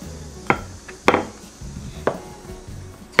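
A rolling pin presses a small stack of dumpling wrappers flat on a board, giving a few sharp knocks amid soft rolling thuds, close by with no talk.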